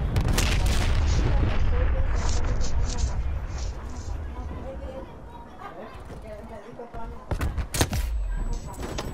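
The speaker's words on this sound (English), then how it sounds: "somebody just threw a bomb at me" A bomb blast in an online shooter match, a loud booming burst at the start that rolls off into rumbling chatter and scattered gunfire, with a player talking over it and sharp cracks near the end.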